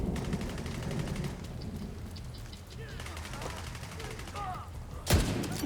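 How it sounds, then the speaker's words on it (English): A grenade explodes in the shooter video game The Division 2. One sharp, loud blast lands near the end, after a stretch of crackling gunfire-like noise, with faint voices in the background. "That's a grenade."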